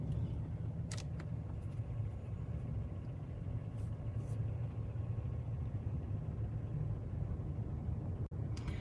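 A car creeps along in slow, heavy traffic on the 405 freeway near Santa Monica Boulevard, giving a low, continuous cabin rumble with faint engine hum. A couple of brief clicks sound near the start and one near the end.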